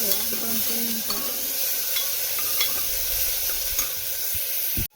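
A green paste of ginger, garlic, coconut and coriander is sautéed with tomatoes in hot oil, giving a close, steady sizzle with scraping stirs and a clatter at the end, and no talking.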